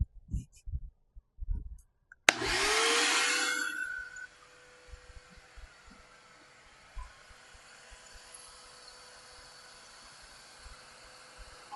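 WEN 7-1/4 inch 12 amp track saw with a dust extractor, a loud burst of cutting noise starting abruptly and fading over about two seconds into a steady hum, after some earlier clicks.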